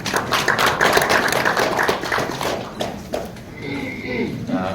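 An audience at a Kwanhun Club debate applauds with dense, steady clapping that welcomes a speaker, close and sustained, then thins out as a voice begins talking.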